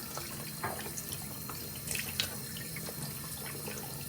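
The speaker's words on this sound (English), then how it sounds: "if you have a regular sink, just obviously hold it under the water." Water runs steadily from a sink tap over a paint tube being rinsed during a kitchen remodel, a faint, even trickle with a few light splashes and no speech.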